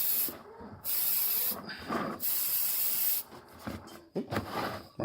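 Airbrush spraying paint onto a rock, heard up close as bursts of hissing air that start and stop irregularly with short gaps, the flow slightly uneven from a small blockage in the nozzle, with no voices.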